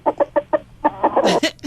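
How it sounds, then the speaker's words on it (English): A farm rooster offered for sale clucks in a quick series of sharp calls before breaking into a short, rising crow, loud and close with no voices. "I got a rooster for sale."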